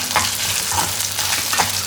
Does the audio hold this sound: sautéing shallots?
yes